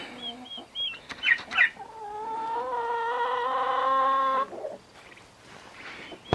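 Close calls from one-month-old turkeys: a few short clucks, then a sustained warbling call for a couple of seconds, followed by quieter scattered chatter.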